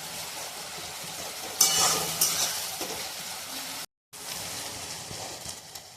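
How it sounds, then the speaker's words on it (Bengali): Onion and garlic sauté in a hot pan with splashes of hot water for a mutton curry. The result is a steady close sizzle and frying hiss with a sharp burst as the water hits, plus stirring, and no one talks. "এবার একটু গরম জল দিয়ে দিয়ে ভাজতে হবে, কষতে হবে ভালো করে"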